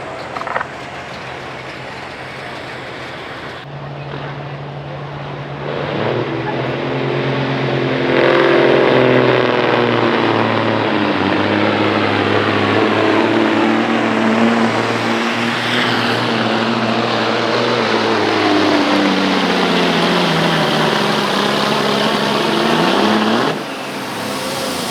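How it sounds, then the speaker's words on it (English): A Peterbilt truck with a Caterpillar engine at a truck pull at a steam and rust show in McConnellsburg, PA, its loud diesel roar climbing and sustaining under heavy load for about twenty seconds before cutting off. "here comes another Pete, except with a cat engine"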